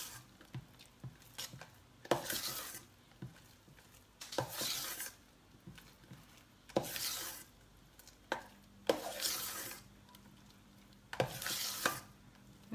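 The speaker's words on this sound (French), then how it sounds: "Puis on mélange tout doucement." A spoon gently stirs a chocolate bavarois mixture with orange in a bowl, giving repeated soft scraping sweeps in an uneven rhythm, close and fairly quiet, with no talking.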